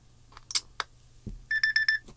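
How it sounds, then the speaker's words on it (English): Standard beeps ringtone on a Samsung Gear S3 Frontier smartwatch: a quick run of close, bright electronic beeps in an even rhythm, a few scattered clicks and taps before it, fairly quiet and alone. "Standard beeps."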